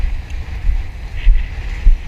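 Strong wind at sea buffets the microphone while people fish from a boat. It comes as heavy, low rumbling gusts that surge and fade in uneven bursts.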